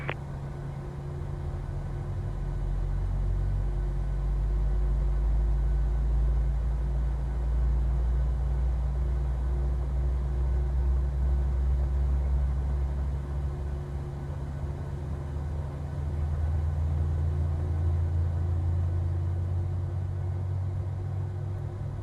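Boeing 737-700 jet engines running in Microsoft Flight Simulator, a steady low rumble and hum with a sustained tonal whine, swelling slightly and holding continuously throughout with no talk.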